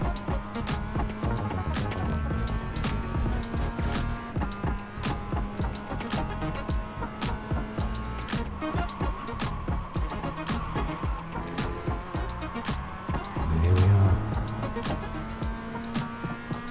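Mazda MX-5 race car engine in iRacing at Oulton Park circuit, a steady revving drone with gear-shift dips and rising pitch sweeps, continuous and close throughout, with a brief louder low thump near the end.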